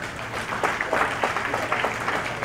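Audience clapping for ministry staff at a formal address, a steady, moderately loud wash of many hands with scattered sharper claps throughout and no voices.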